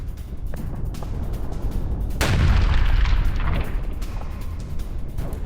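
Artillery fire and explosions during a Ukrainian brigade's attack near Avdiivka: a sudden heavy boom swells out of a rumbling background, followed by sustained rolling noise and scattered distant thumps.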